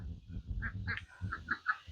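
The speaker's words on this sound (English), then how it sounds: "There's some ducks." Ducks quack in short bursts over low rumbling background noise, several calls close together, moderately near.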